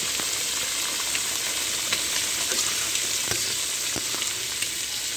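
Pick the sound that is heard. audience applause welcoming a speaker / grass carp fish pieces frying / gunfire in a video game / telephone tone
grass carp fish pieces frying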